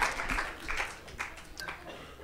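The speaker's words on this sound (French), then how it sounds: "Félicitations, on les applaudit." A comedy show audience gives brief, scattered applause that rises and falls in small bursts, with some background voices mixed in.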